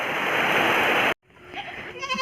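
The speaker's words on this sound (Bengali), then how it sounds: "এইখানে আমার বাকি 2টা না 3টা ছাগলও আছে নিচে।" Goats bleat loudly up close in a short burst that cuts off abruptly, followed by fainter, wavering bleats.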